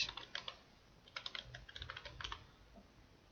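Fingers tap on a computer keyboard in quick, irregular bursts of light clicks, close and fairly quiet, with a short pause between runs.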